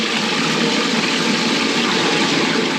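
Toilet with a Saniflo macerator flushing, a loud continuous rush of water mixed with a steady motor-like whir, close and without talk.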